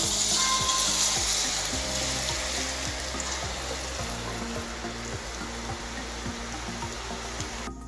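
Chakli (murukulu) dough rings frying in hot oil, a dense steady sizzle and bubbling close by, continuous and fairly loud throughout with no talking.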